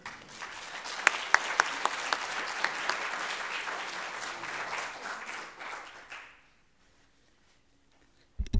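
An audience applauds to welcome a speaker to the stage at a lecture on the Colonial Revival, with sustained clapping and a few sharp individual claps, fading out after about six seconds into near silence.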